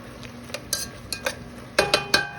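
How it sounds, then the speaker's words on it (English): Vegetables and mushrooms sautéing in a pan for a creamy cheesy steak sauce, with a steady sizzle and a series of sharp utensil scrapes and clinks against the pan, close and fairly loud, no talking. "these are sauteing real nice. The mushrooms are starting to get a little brown."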